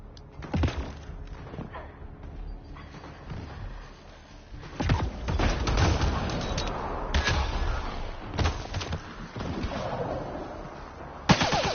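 Gunfire in the Mass Effect Andromeda video game, with repeated bursts of shots and sharp cracks rising and falling over a rumbling battle din and ending in one loud bang.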